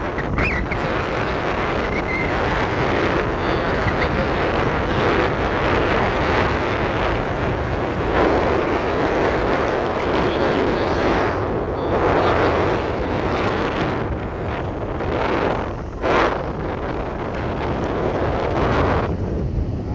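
Strong wind, about 14 to 15 knots, roars steadily across the microphone aboard a tug assisting a ship unberthing, a loud, dense buffeting that covers everything for the whole stretch, no voices.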